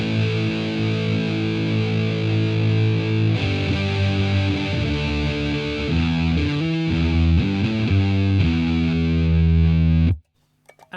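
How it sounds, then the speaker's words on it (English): A heavily distorted electric guitar through a Behringer UV300 Ultra Vibrato pedal, vibrato off, plays sustained chords and riffs, loud and steady, with no wavering vibrato, then cuts off abruptly near the end. "So this is the distortion without the vibrato."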